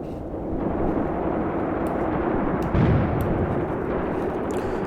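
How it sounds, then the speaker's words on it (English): Artillery guns firing in the war game Graviteam Tactics: Mius Front, heard as a continuous heavy rumble of distant gunfire with a slightly louder burst near the middle, no voices. "let's make sure the guns are still firing"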